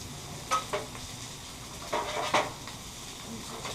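Philly cheesesteak cooking on a Blackstone griddle, with a soft steady sizzle under a few sharp scrapes and clinks of a spatula against the flat-top, close and fairly quiet.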